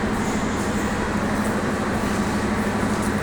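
Trains stand at Kamalapur railway station platform in Dhaka, with a loud, continuous low rumble and hum of idling engines filling the space and no talk.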